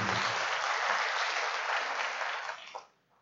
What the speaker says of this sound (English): Shall we give a big round of applause to all our partners once again?